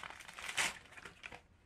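Plastic packaging for a Seria bottle case crinkles and crackles as it is opened, with one louder rustling burst near the middle amid softer handling noise, close and fairly quiet.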